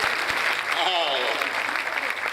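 Church congregation applauding at a revival service in Pakistan, steady dense clapping under a speaker's voice for a couple of seconds.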